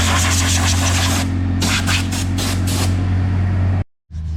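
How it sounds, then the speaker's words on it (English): Compressed air blowing debris out of an Ariens Zoom 54 XL riding mower, a loud hissing rush in a long blast followed by several short bursts, then cut off. "I'm gonna blow some of that stuff out of here."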